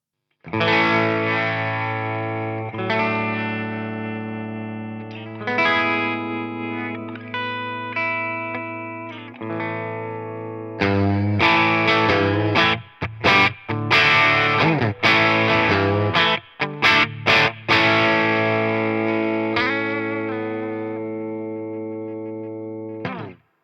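Ibanez Iceman electric guitar on its neck pickup, played through distortion and chorus effects: sustained chords ring out, then a busier riff of choppy, stop-start strums with brief gaps, loud and close, with no talking.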